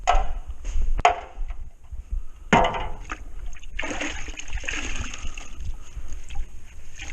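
A pan and knife are washed in a bucket of dirty water after drywall texture repair, with sloshing, splashing and scrubbing in irregular bursts and occasional knocks of metal against the container.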